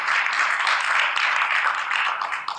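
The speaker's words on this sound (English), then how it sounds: "Give them a big round of applause." An audience at a synthetic drugs symposium claps and applauds steadily for a couple of seconds, a dense wash of hands that fades slightly at the end.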